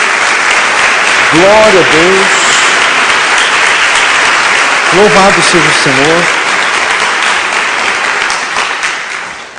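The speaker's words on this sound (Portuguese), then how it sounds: "Dê uma salva de palmas a Jesus." A church congregation claps loudly and continuously throughout, while a voice calls out praise over the applause.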